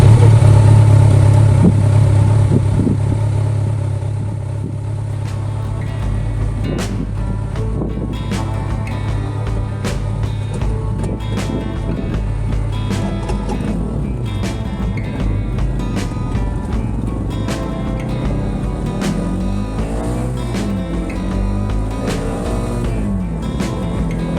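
Kawasaki Z900 motorcycle riding along roads in the Lviv region of Ukraine, with a steady engine drone and wind rush throughout, rising in pitch near the end as the rider accelerates; no talking.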